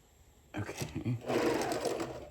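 A sewing machine runs a very short stitch length through fabric, starting after a voice speaks briefly, then a steady close whirring buzz of rapid needle strokes.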